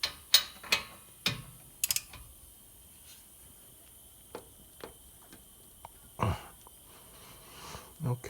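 Sharp ratchet clicks sound in short bursts as a 19 mm brake caliper bolt is broken loose on an Infiniti G35, close and fairly quiet, separated by pauses and a few soft clanks.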